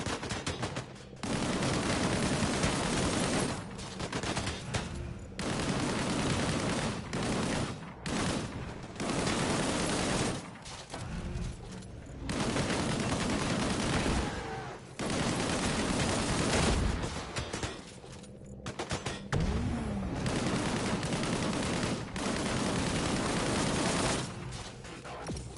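Rapid gunfire from a primary weapon in the Disintegration video game, loud sustained bursts of automatic shots broken by short pauses, repeating over and over, with heavy low impacts mixed in.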